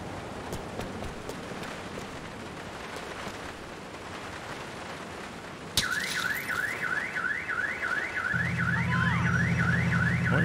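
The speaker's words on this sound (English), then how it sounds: "When did the alarm stop?" A car alarm in Grand Theft Auto IV starts abruptly and wails with a rapid rising-and-falling siren, with a steady low horn-like drone joining near the end, loud over traffic and rain-like street noise.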